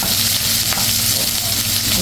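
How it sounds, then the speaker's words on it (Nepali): Ingredients sizzle and fry in hot oil while being stirred until browned, part of making achar for Nepali momo dumplings; a steady, close, continuous crackle with no talking. "यसलाई अलिकति भुट्ने लाइक मजाले अलिकति ब्राउन भइन्जेलसम्म"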